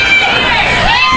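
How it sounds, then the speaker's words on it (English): Fans cheering loudly at a football game, a dense roaring crowd with high shouts and whistles held steady through a brief moment. "the fans cheering for the defense to do it just one more time"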